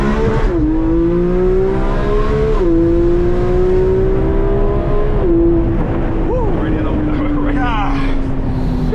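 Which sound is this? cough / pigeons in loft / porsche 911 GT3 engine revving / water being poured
porsche 911 GT3 engine revving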